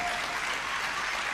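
Romanian fans in a table tennis arena during a women's team semi-final against China keep up steady, dense applause and cheering from a large crowd, with no single voice standing out.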